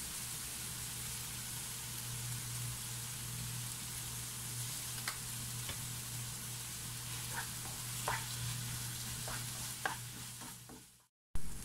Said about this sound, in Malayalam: ഇതെല്ലാം കൂടെ ചേർത്ത് ഒന്ന് ഇളക്കി കൊടുക്കാം.